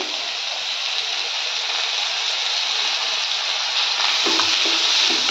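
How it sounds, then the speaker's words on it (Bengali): Bottle gourd pieces added to a hot cooking pan sizzle in a steady, loud hiss with a soft stirring clatter near the end and no talking. "তাহলে আমি এবার লাউগুলো দিয়ে দিচ্ছি।"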